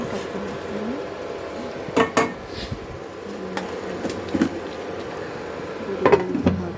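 Metal clinks of a lid set onto a cooking pot of Bengali fish curry, a few short clatters in a quiet kitchen with a faint background hum.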